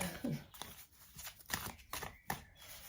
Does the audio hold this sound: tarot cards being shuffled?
yes